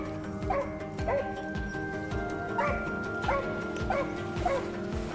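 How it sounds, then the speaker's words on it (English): A pack of hunting dogs barks and yips steadily at a cornered wild boar in an open field, repeated bow-wow barks with whimpering yelps, fairly close and continuous with no talk over them. "The growling and barking of the dogs led us straight to the target."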